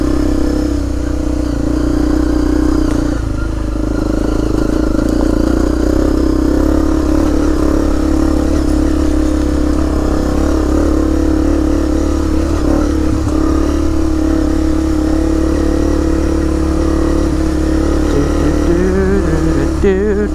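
A Honda CRF250L motorcycle is ridden with a steady loud engine drone and slight rises in revs, heard close and continuous throughout.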